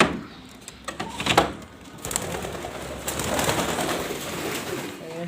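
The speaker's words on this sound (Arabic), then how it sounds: "الحمام طلع لك اهو" Pigeons cooing at close range among a few bird calls and handling noises, with a bird-keeper's voice briefly heard nearby during egg fertility checks.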